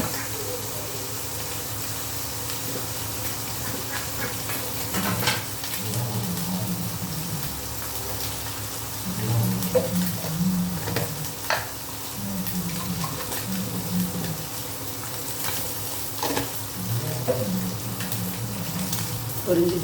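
Nethili anchovies frying in hot oil give a steady, moderate sizzle with soft bubbling and spattering crackles running throughout, and occasional low background murmurs beneath.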